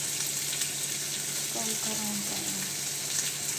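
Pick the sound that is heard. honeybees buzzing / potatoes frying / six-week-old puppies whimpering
potatoes frying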